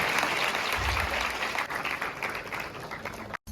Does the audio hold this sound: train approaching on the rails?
no